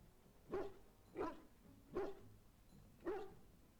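A puppy barks in the Dragon Age: Origins video game, four short, evenly spaced yaps at moderate distance over a quiet background, with no talking.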